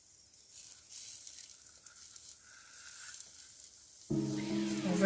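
A galette bretonne, a Breton buckwheat crêpe folded over a filling with bell pepper, sizzles gently in a pan, a soft steady frying hiss that swells louder near the end.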